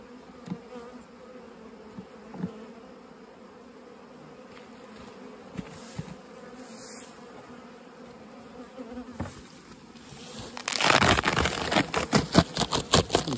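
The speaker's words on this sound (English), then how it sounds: "Seems to have enough bees." Honey bees, Carniolans, hum steadily in the background, then the buzzing swells into a loud, dense drone close up at the hive, with sharp crackles mixed in.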